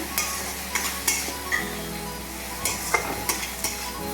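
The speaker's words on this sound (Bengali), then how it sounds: "এবার আমি মশলাটা ভালোভাবে কষিয়ে নিচ্ছি।" Spice paste with coriander powder, salt and ginger paste sizzles in a pan while a spatula stirs and scrapes in steady, close strokes, a constant frying hiss underneath, for a Bengali potato and pointed gourd curry.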